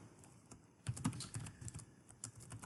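Someone types quick, uneven bursts on a computer keyboard while entering data into database fields. The key clicks are soft and close, with no voices.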